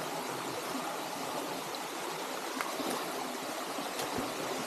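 Small waterfalls and a flowing stream on a farm in Real, Quezon make a steady, soft rushing wash of water, continuous and even throughout, with no voices.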